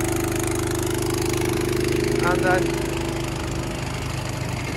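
A Honda engine powers a fertilizer sprayer used on winter wheat, running at a steady mid-pitched hum close by while a voice briefly speaks over it.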